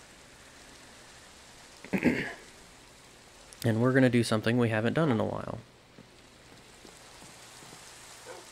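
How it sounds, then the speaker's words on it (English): Rain falling in the video game Minecraft, a soft, steady hiss running underneath throughout, while someone talks over it in the middle of the clip. "Other than the fact that it's raining."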